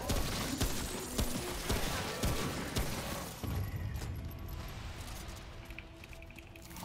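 Gunfire in Remnant: From the Ashes crackles as a dense, busy volley of sharp shots mixed with impacts and other game noise, moderately loud and fairly continuous, with a few stronger cracks standing out.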